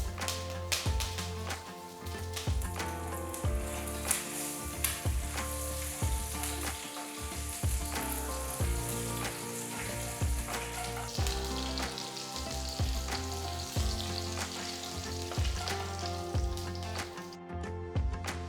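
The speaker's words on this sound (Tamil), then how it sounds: "கடுகு வெடிக்க ஆரம்பிச்சதும் கொஞ்சம் கருவேப்பிலை போடுங்க." Mustard seeds, cumin and curry leaves crackle and sizzle in hot oil for a bitter gourd fry, a close, continuous frying hiss studded with rapid popping and occasional stirring scrapes.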